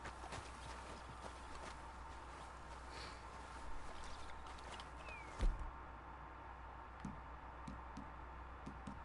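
Horse hooves clip-clop at a steady walking pace in the video game Red Dead Redemption 2, a faint regular patter over a constant ambient bed, with one brief louder thud partway through.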